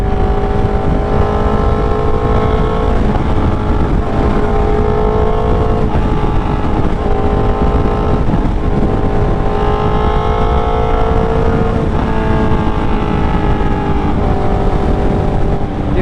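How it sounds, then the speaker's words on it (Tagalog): From a moving motorcycle on the Skyway, a constant loud engine drone and wind roar fill the ride, with the engine pitch rising and falling as it shifts through traffic. "Tingnan nyo guys, oh, kabilaan traffic"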